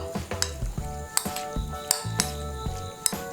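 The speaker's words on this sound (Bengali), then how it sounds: "এই দেখুন চিকেনটাকে ভালো করে মেখে নিয়েছি" Raw chicken worked by hand with salt and Kashmiri chilli powder in a bowl, giving close, wet squishing and kneading sounds broken by a few sharp clinks against the dish.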